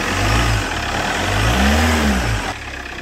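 Chevrolet Captiva NFL diesel engine revving in a workshop during an overhaul: two rising throttle blips from idle, loud and close, settling back to idle at the end.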